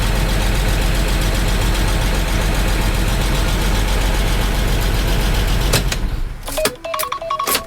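A Land Rover Freelander engine runs with a rough, knocking clatter for several seconds, then cuts out, leaving a few sharp metallic clanks and knocks nearby.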